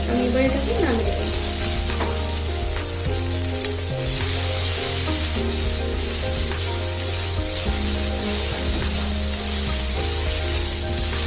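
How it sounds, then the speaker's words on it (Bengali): Whole spices and cashews frying in a pan for prawn malaikari masala, giving a loud, continuous close sizzle with repeated scraping and stirring sounds throughout. "এর মধ্যে এই কাজুগুলো দিয়ে দেবো। দিয়ে আর 2 মিনিটের মতন নাড়াচাড়া করে"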